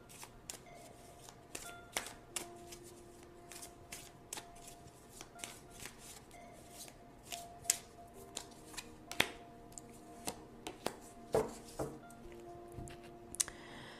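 Tarot cards are shuffled and handled up close in a quiet room, with soft repeated riffling, flicks and light taps as cards are picked out, all fairly faint.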